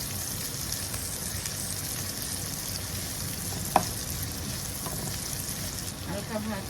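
Onion, potato and pointed gourd fry in a pan with a steady, soft sizzle and crackle, one brief sharp tap near the middle and light stirring toward the end.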